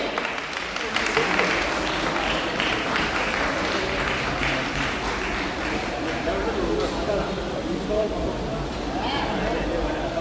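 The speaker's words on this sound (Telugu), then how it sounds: "వారి సౌజన్యానికి చప్పట్లు ఎవరికి కొట్టాలంటే వాళ్ళే కొట్టండి" An audience at a Telugu poetry recital claps in a sustained round of applause, mixed with a person talking over it.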